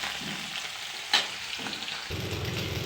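Fish fries in a pan for a few seconds, a steady close sizzle with a sharp click partway through and a louder, fuller frying sound near the end.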